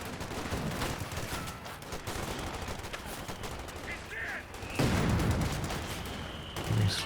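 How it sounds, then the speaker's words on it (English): Mortar blasts and rattling gunfire in a Company of Heroes 2 2v2 match, dense continuous battle noise with louder impacts near the end and a voice faintly underneath. "Oh man, that mortar actually doing some good damage for SkyGreen"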